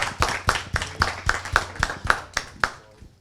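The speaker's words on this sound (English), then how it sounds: "Give yourself a round of applause." A few hands clap together in a sharp, even rhythm of about ten claps that stop after three seconds. The sound is close and dry, like a small group of students rather than full applause.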